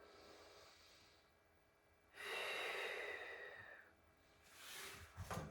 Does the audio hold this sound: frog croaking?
no